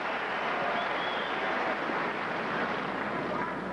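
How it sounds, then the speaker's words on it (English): A crowd of tennis fans at the 2003 Australian Open semi-final cheers and claps as a steady, broad roar from a large stadium, held at an even level with no voice over it. "Fans here cheering"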